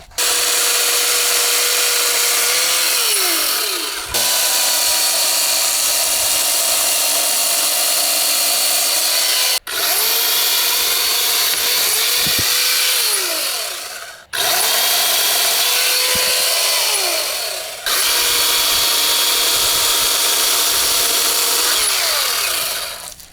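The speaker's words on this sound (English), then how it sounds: "this is a really light, versatile, simple to use chainsaw" An AEG battery chainsaw cutting through wood in four long, steady bursts of high whining motor and chain noise, each pass ending with a short drop in pitch before the next cut begins.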